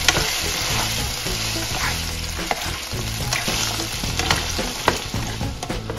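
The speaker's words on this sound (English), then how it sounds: "Then sear." Shrimp, fish balls and other seafood sear in a hot pan for chopsuey, a loud steady sizzle with repeated scraping stirs and a few sharp clatters.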